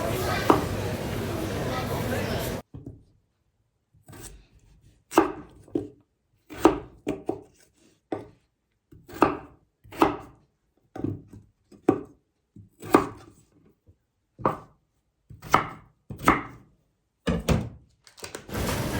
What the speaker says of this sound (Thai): เลือกใช้ มันฝรั่งนะคะ เราก็หั่นเป็นชิ้นพอคำจะได้สุกง่ายค่ะ